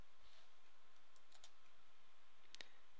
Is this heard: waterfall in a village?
no